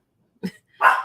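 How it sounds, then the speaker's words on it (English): A dog barks twice indoors, a short low woof followed by a sharper, louder bark, close and with no talking. "I apologize for the barking"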